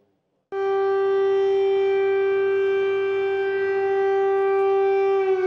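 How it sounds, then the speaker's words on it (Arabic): A civil defense air raid siren in Kyiv, Ukraine, starts abruptly and holds a loud, steady wailing tone throughout, sounding alone without voices. "صفارات الإنذار تدوي، المدينة تعيش أجواء متوترة"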